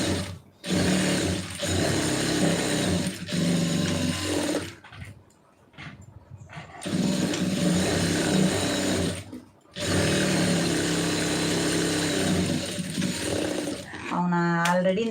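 A sewing machine stitches a blouse seam in long, steady, close whirring runs broken by brief stops, with a short mechanical rattle near the end.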